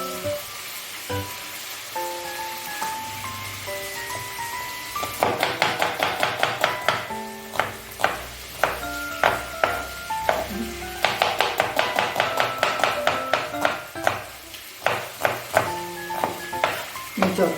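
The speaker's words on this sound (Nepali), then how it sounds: "यसरी म 2वटा अलिक ठिकै साइजको 2वटा प्याज काट्नेछु है।" Two medium onions are chopped with a knife on a board in a home kitchen for chicken curry, the blade striking in quick rhythmic bursts with brief pauses and soft background music running underneath.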